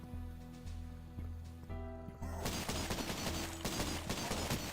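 Enemies firing guns at the player in Cultic, a retro first-person shooter played on a Steam Deck. A dense, loud volley of shots breaks in partway through over steady game music and noise.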